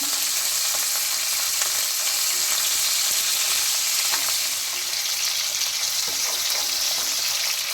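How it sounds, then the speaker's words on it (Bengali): Bhetki fish pieces frying in hot oil, a loud, dense and continuous sizzle heard up close for several seconds with faint stirring noises, no voices. "মাছটাকে এবার ভেজে নিচ্ছি আমি।"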